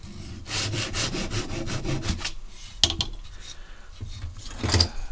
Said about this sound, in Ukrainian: беремо стусло і нарізаємо 6 деталей